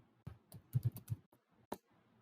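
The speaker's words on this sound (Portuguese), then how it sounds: "que eu vou digitar aqui" Quiet keystrokes on a computer keyboard while drafting in AutoCAD, a short irregular burst of clicks followed by one more isolated press, close and faint with no talking.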